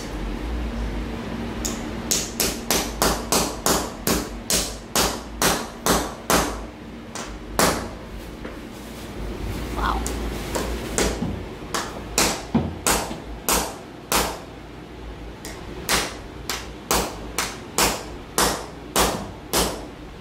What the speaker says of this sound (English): I want to hammer it down.